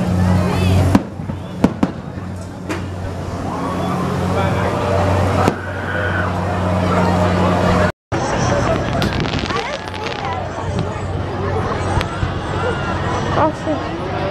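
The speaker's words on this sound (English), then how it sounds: "The fireworks!" Fireworks burst in sharp, scattered bangs and crackles over an evening crowd's chatter, with people talking close by throughout.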